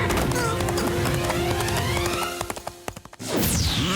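Horse hooves clip-clop at a run in a mythological drama set in Hastinapura, busy and fairly loud over music and background voices, then thinning to a few scattered taps before a swell of sound returns.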